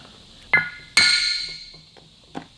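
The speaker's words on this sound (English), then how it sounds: "Might have to give that a tap with a metal hammer actually." Two sharp metallic taps from a metal hammer on a Harley-Davidson WLA engine part ring out, the second louder with a lingering ring, then a lighter tap follows.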